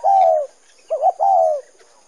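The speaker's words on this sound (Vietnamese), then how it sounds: "bồ câu" A pigeon coos close by, with two long, soft, descending coos separated by a short warbling phrase, alone without other sounds.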